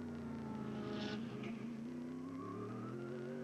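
A 1992 IMSA GTO race car at Portland International Raceway drones steadily down the main straightaway, its engine holding a continuous mid-distance tone that rises slightly in pitch toward the end.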